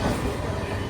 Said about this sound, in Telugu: ఈడ కొంచెం ముందు పోగానే కనిపిస్తుంది మనకి చెన్నై లోకల్ ట్రైన్